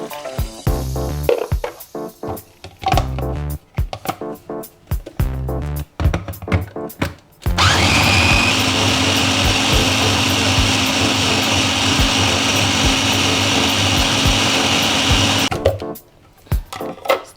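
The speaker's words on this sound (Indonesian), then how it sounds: "Setelah di blender halus," A blender whirs loudly and steadily for about eight seconds, blending green-colored cendol batter with water, preceded by clattering and knocking sounds, then stops abruptly.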